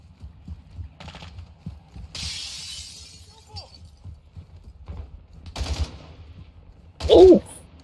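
Gunfire and impacts in Call of Duty Warzone 2 come in short, separate bursts with sharp, glassy crackles. The last one is loud and close, set over a constant low game rumble, with no talk.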